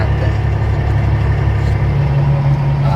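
A 2022 Peterbilt 389 truck with a Cat engine idles in a steady, close, low rumble that holds an even level throughout without any talk.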